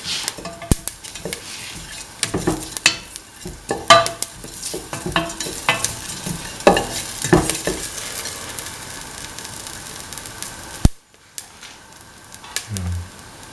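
Fennel seeds frying in a pan while being stirred, a busy crackle and sizzle with repeated sharp scraping and clinking of a utensil against the pan, close up, with a brief pause near the end.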